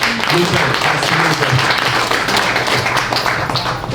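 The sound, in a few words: audience applause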